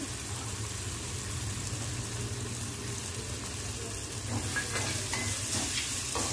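Tomato and onion sauté with turmeric and asafoetida in a pan, making a continuous close sizzle with occasional stirring scrapes in the last couple of seconds.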